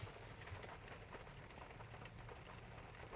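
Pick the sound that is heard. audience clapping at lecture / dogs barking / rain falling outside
rain falling outside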